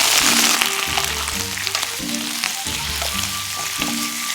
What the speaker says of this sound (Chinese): 炒出香味儿。 再沿着锅边淋上料酒去腥。